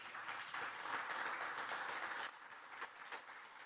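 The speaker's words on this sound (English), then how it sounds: "Let's give them another round of applause." Faint, distant audience applause at a startup pitch event, a soft continuous wash of clapping with a few sharper claps, dipping slightly partway through but carrying on to the end.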